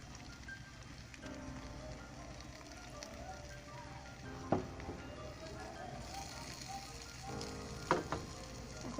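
Fish roe dropped into a pan of softened, sizzling onions gives a steady fry hiss, with two brief louder bursts of crackle and a few faint clinks.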